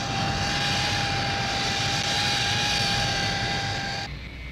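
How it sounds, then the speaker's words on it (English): Hawker Siddeley P1127 jet fighter, Royal Air Force, with a Pegasus engine, in level flight: a loud, steady jet roar with a high whine that drops off sharply near the end. "Another high-speed fighter in quantity production for the Royal Air Force, Hawker Siddeley's P1127."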